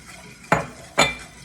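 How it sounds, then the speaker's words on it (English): A whisk stirs sugar and cornstarch into a pot just coming to a boil for a South Louisiana custard, knocking twice against the pot with close, bright metallic clinks. "I'm gonna go ahead and whisk in our sugar and cornstarch."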